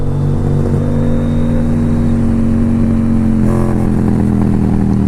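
A Honda Goldwing trike motorcycle ridden through corners at normal speed, its engine droning steadily and close, with a slight shift in tone partway as the throttle changes.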